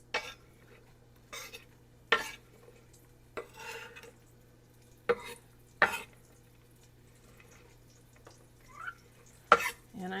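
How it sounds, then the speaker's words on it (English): Shallots go into a pot to sauté. Quiet stretches are broken by about eight short scraping and clattering bursts of a utensil working the pot, with a faint steady hum underneath. "let me get the shallots into the pot and get them sauteing"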